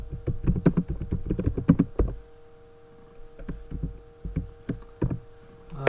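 Code is typed on a computer keyboard in quick close bursts of clicky keystrokes, a pause of near quiet with a faint electrical hum, then more scattered key taps.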